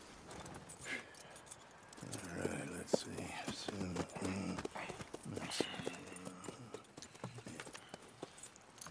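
Horse hooves clip-clop at a walk in Red Dead Redemption 2, a soft, irregular stream of close steps mixed with faint rustling and a few low murmured voices.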